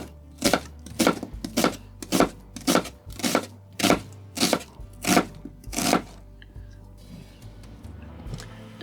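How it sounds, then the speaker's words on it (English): Knife chopping a roughly peeled potato on a cutting board, about a dozen sharp, evenly spaced close knocks that stop after six seconds, leaving quiet room tone. "and then I'm going to chop it up."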